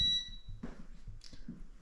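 Inside an old historic house in North Carolina, a short, high electronic beep sounds faintly at the start, then fades into quiet room noise and soft knocks.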